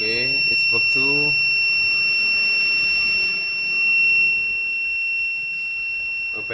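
An Arduino-based gas sensor alarm sounds a steady high-pitched buzzer tone, continuous and fairly loud throughout, with a person speaking briefly at the start.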